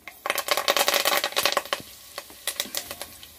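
Fennel seeds crackle and splutter in hot sesame oil with fenugreek for a dry fish kuzhambu, giving a burst of quick sharp pops that thins into scattered crackles near the end.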